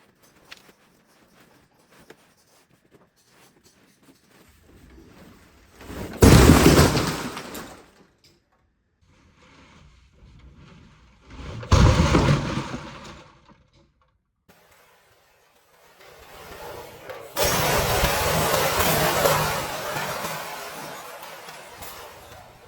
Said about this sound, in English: I'm going to destroy this MOC.